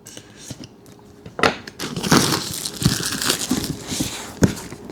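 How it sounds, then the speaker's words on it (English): Cardboard and plastic packaging of a Mangoal 4K dash cam crinkles and tears as the box is opened, a run of close, loud rustles and rips with sharp crunches near the end. "Let's get inside this box and see what we're working with."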